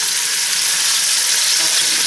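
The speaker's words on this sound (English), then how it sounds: "So make sure you brown your onion first before you put tomatoes and vegetables." Onions brown in a frying pan with a loud, steady sizzle that holds at an even level throughout, close to the pan, as collard greens are prepared in an African style.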